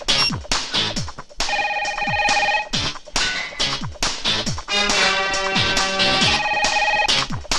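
A melodic electronic ringtone plays loudly, with repeating tonal phrases over a beat for several seconds. No voices are heard.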